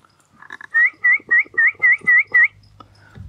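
A man whistles to call the family dogs beside a mustard field with scrubby brush, a run of seven short, loud, evenly spaced whistle notes, preceded by a few softer tones and followed by quiet low rumble.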